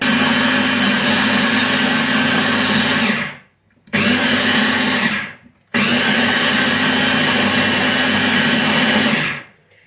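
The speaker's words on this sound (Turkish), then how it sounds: "Domateslerimizi blenderdan geçiriyorum." Electric blender pureeing tomatoes in three loud bursts of whirring motor noise, separated by brief silent pauses, with no voices.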